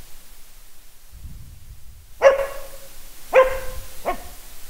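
A dog barks sharply three times, close and loud, with short gaps between barks after a moment of quiet rustling; the last bark is softer.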